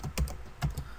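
Computer keyboard keys clacking twice in quick succession for a Control R shortcut, close and crisp with no other sound.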